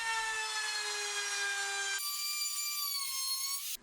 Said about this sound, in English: I round the edges over with a trim router